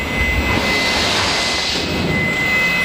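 A milling machine runs inside a Compact Electric workshop in Vienna, putting out a steady, loud broadband whir with a thin high whine held throughout and no pauses.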